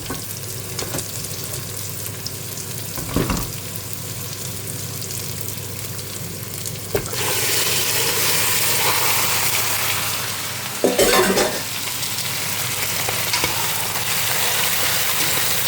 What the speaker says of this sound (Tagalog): Pwede na natin ilagay ang ating chicken.